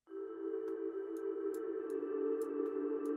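An ambient synth pad run through the Soundtoys Space Blender plugin holds a steady droning chord, with faint, airy ticking accents recurring at irregular intervals over it, and no voices.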